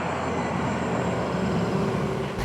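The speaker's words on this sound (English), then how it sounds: "it's kind of like this digital version of what an AMG would kind of sound like" A 2025 Mercedes G580 electric G-Wagon passing with its synthetic, AMG-style digital drive sound, a steady broadband hum and whoosh held at an even loudness throughout, with no voices.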